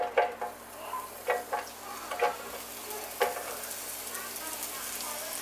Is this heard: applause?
no